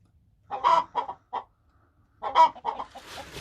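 A rooster clucks in short bursts, a few quick clucks, a pause, then another run of clucks, close by in a quiet setting.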